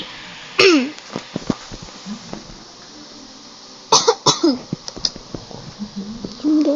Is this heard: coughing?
yes